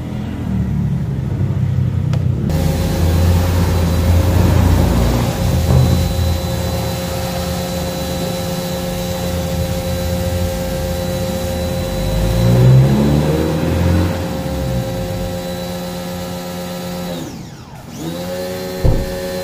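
A loud, steady pressure washer motor drone with a continuous hiss runs throughout, dipping briefly near the end before resuming, with no voices.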